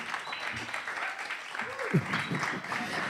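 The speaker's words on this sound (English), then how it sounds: "It's just safe to clap now." Applause from a comedy audience at a live show at The Bedford, a short burst of clapping beneath a voice speaking over it.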